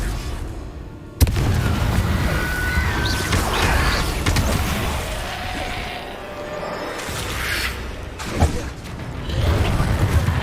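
Confringo fire spell from Hogwarts Legacy, a sharp booming blast that opens into rumbling crashes, creaks and clattering debris, with another thud later in the fight.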